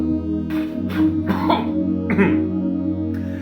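Several short, rough coughs come in quick bursts over a steady low hum.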